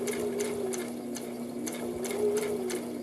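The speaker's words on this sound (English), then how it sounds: "you're going to sew down the edge here to get to this corner" A sewing machine stitches down the fabric edge of a face mask toward a corner, its steady motor whir running continuously with a regular rhythmic clatter of the needle, close and moderately loud.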